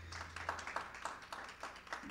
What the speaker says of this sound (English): Can everybody give John Hill a round of applause?